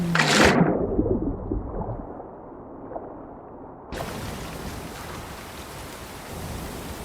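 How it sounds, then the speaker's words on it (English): Rain and wind in the survival game Ember's Verge, a steady hiss of falling rain that briefly cuts out near the start before resuming at a moderate, even level. "even though it's raining and windy"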